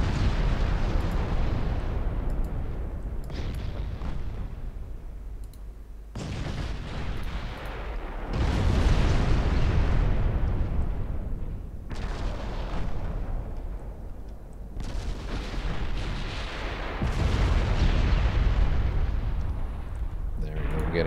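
Warship naval guns in the game Ultimate Admiral fire and land hits in repeated heavy booming salvos, each a broad roaring blast that decays over a few seconds, several volleys in a row with someone talking over them.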